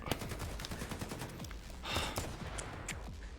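Rapid, sustained machine-gun fire in a VR shooter, with many overlapping bursts of shots from several guns rattling continuously at steady loudness, dense and slightly distant.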